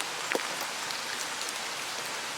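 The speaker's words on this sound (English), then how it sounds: "And it's raining, and so not the best weather" Steady rain falls outdoors in wet weather, a constant dense hiss of drops spread evenly through the clip, with a couple of slightly louder patters early on.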